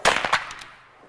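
A single rifle shot cracks at an outdoor biathlon shooting range, sharp and loud, with a short echoing tail fading over about a second.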